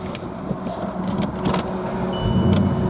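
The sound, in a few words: Bentley Continental GT V8 S engine starting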